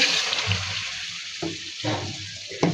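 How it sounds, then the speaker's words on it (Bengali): Hot water splashes and pours into a hot pan of chicken korma spices, hissing briefly, with a few short bursts and a clink near the end. "দিয়ে দিব কিছুটা গরম পানি"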